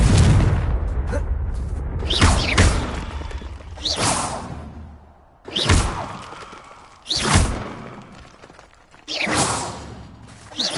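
Blasting spell explosions in the Hogwarts video game, a series of loud whooshing booms repeating every second or two, each with a sharp attack and rumbling tail.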